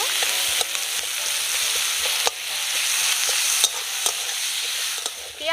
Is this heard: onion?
yes